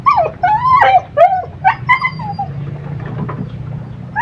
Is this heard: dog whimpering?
yes